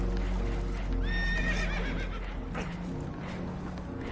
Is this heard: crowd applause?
no